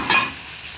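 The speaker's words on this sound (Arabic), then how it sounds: "هرمي بقى عليها شوية التوابل دول، شوية الخضار دول" Spices and vegetables tossed into instant noodles frying in a pan, giving a brief stirring clatter and soft sizzle that fades to a quieter steady fry, close and with no talking.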